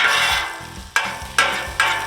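Onions and bacon fry in bacon grease for a patty melt, giving a close, loud sizzle with three sharp bursts as pieces are stirred or turned, fading between each.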